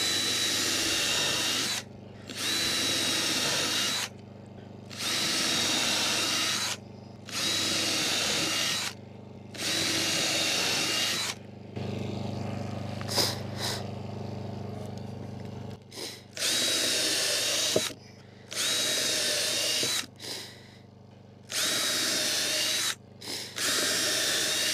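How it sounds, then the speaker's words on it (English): A power drill pre-drilling wood boards whirs in repeated bursts of a couple of seconds each, separated by short pauses, with a lower motor hum partway through. "we're gonna start pre-drilling the small end boards first"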